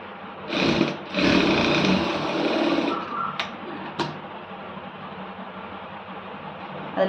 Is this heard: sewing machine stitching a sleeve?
yes